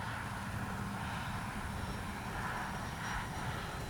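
An FMS PC-21 Pilatus RC model propeller plane flies overhead, its engine and propeller making a steady, continuous buzzing drone at moderate distance with no talking.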